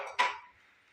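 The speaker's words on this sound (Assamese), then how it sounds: "এতিয়া মই এয়া পিঠাৰ মিশ্ৰণখিনি কেৰাহীৰ পৰা ইয়াতে নমাই লৈছোঁ।" A single close metal clatter and scrape as Assamese pitha mixture is moved from a kadai onto a plate, sharp at first and then quickly fading to quiet, with no voices.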